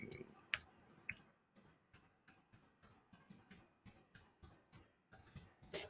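Someone pecks unevenly at a computer keyboard, with sharp, close key clicks arriving in irregular bursts and pauses against a quiet room.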